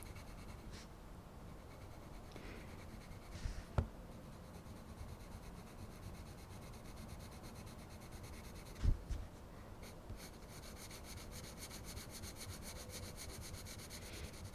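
Steady, soft scratchy rubbing of Procolour colored pencils shading on drawing paper, close and quiet, with a couple of brief louder taps and no talking.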